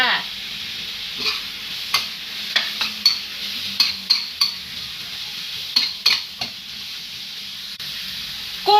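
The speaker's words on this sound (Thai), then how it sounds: "ผัดกุ้งกับปลาหมึกให้สุกค่ะ" Shrimp and squid are stir-fried in a hot pan for a spicy Thai seafood dish. A steady sizzle runs throughout, broken by repeated sharp scrapes and clacks of a utensil against the pan.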